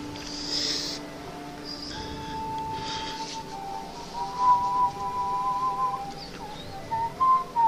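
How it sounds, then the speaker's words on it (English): A person whistles a wandering tune close into a microphone, the sustained notes thin and slightly harsh, with soft clicks and breaths between phrases. "Sorry, I apologise for whistling because I realise through a microphone that's condensed and is pretty horrible."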